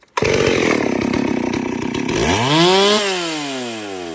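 A Stihl chainsaw is pulled into life and runs loud and close, its motor rising to a screaming high rev before dropping back to a steadier, lower buzzing idle.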